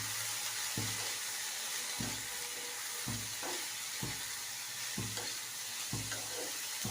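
Garlic and ginger frying in a pan, a steady sizzle with a spatula stirring and scraping in regular strokes about once a second, close and alone with no talk.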